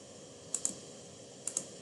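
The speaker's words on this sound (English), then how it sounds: "using the arrow keys on my keyboard to go to a particular particle" Four crisp key taps on a computer keyboard, arrow keys pressed in two quick pairs about a second apart, faint and close over a quiet room hiss.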